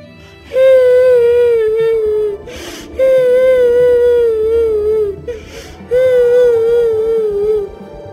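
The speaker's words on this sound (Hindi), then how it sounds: "अरे स्वामी, ये रोने की आवाज किसकी है?" Someone crying in a forest, heard as three long, drawn-out wailing sobs with short pauses for breath between them, loud and close.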